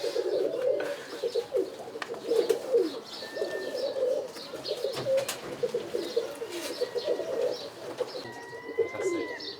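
Birmingham roller pigeons, a performing breed, coo steadily in soft overlapping low murmurs throughout, with occasional higher chirps and faint flutters nearby.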